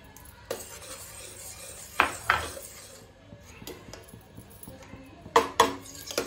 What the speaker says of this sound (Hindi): इसको हम अच्छे से मिक्स कर लेते हैं